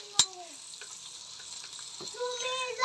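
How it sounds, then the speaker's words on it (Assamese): Broiler chicken meat fries quietly in a pan at home, a soft sizzle with a sharp clink near the start and faint tonal sounds in the background. "এইখিনি ব্ৰইলাৰ মাংস এতিয়া ভাজি আছে"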